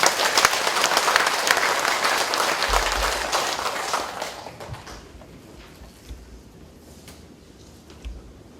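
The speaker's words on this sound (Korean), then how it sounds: "다시 한번 큰 박수 부탁드립니다" Church congregation at a Goheung evangelism festival applauding loudly, a dense burst of clapping that holds for several seconds, then thins and fades into scattered claps and room murmur.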